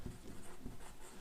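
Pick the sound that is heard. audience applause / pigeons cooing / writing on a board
writing on a board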